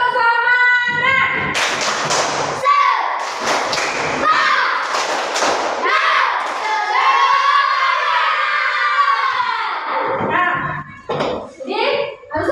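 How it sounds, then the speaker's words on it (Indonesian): A class of children performing the 'tepuk semangat' clapping chant: rhythmic claps and thuds mixed with loud, energetic children's voices shouting and chanting together, in close, lively bursts. "Tepuk semangat."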